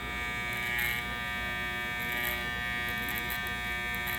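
Electric hair clippers lining up a conservative neck taper on a fade haircut, a continuous close, steady high buzz with slight shifts in pitch as the blade moves against the neck.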